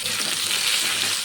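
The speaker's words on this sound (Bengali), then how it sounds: "দিয়ে আলুটিকে ভেজে নেব।" Potatoes seasoned with turmeric and salt fry in hot oil, a brief, steady, close-up sizzle with no pause and no talk.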